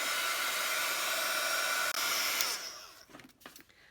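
A hair dryer blows loud and close, drying a junk journal background page, then cuts off near the end, leaving faint rustling handling sounds.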